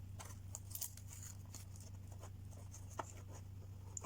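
A box being opened at close range, with faint scratchy rustles and a few small crisp snaps over a low steady hum, no talking.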